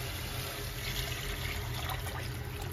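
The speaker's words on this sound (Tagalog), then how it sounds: "Lagyan na natin ng tubig at pakuluan natin" Water poured into a pot of crushed tomatoes, a steady close trickle and splash that runs evenly throughout at low volume.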